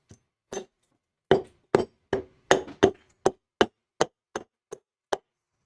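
An axe chops at a wooden spoon blank on a bench, producing about a dozen sharp, close, evenly spaced strikes that speed up slightly toward the end, each crisp and brief.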